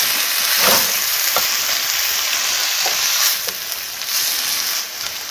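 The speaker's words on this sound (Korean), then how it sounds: "계란 한 개를 이렇게 깨워줘서 네, 네, 풀어주면 좋습니다" Beaten egg being stirred into boiling bean sprout ramen, a steady close sizzling, bubbling hiss with a few soft stirring clicks throughout, no voices.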